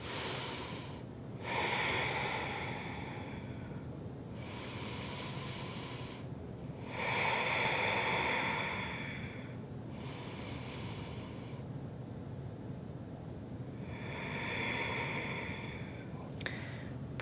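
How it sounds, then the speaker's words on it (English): Three slow, deep breaths taken during a yoga forward fold, each long airy inhale and exhale rising and falling alone, close and soft with quiet gaps between. "we'll take 3 big rounds of breath here"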